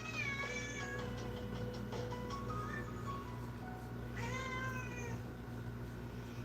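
A needy house cat meows repeatedly over steady low indoor hum, several drawn-out calls with pauses between, moderately close and clear.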